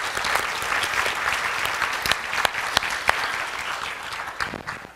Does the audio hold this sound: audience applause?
yes